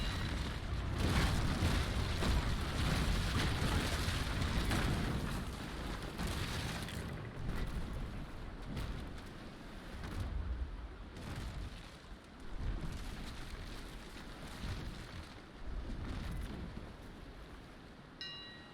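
Ship cannon broadside in the Naval Action video game: a long rolling barrage of heavy booms, loud and continuous at first, then thinning into scattered distant thuds and rumbling over wind-like noise.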